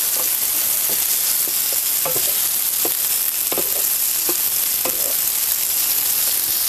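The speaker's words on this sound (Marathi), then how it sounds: "फक्त असं आपण वांगी घालूनच आहे ना चांगलंसं परतून घ्यायचं 1-2-3 मिनटं" Eggplant pieces stir-fried in a pan give a steady, fairly loud sizzle with scattered scraping clicks of stirring throughout.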